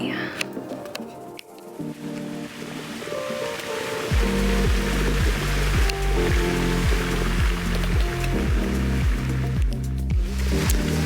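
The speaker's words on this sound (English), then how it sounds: "Rain." Rain patters steadily across a surface, dense and fairly loud, over repeating background music that sets in partway through.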